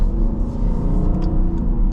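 The naturally aspirated V8 of a 2026 Dodge Durango GT accelerates with a loud, smooth, steady low rumble from inside the cabin, with no talk over it.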